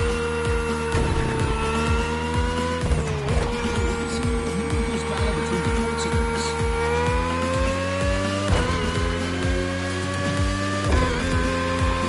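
Race cars roar in The Crew Motorfest video game, with steady loud engine drone, shifting revs and occasional tire squeal running continuously, no talking.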